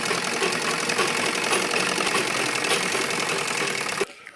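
A sewing machine stitches a folded hem along the edge of a baby dress, a close, continuous rapid mechanical whirring and clatter running for about four seconds before stopping abruptly.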